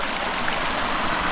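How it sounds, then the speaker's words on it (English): A powerful stream, prone to overflowing and flooding a nearby house and lawn, rushes in a steady, close, loud wash of flowing water with no voices. "But this stream is so powerful"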